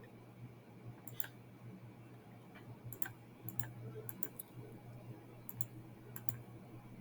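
Sparse calculator key presses tapped out one at a time in an irregular rhythm, soft clicks over a steady low hum.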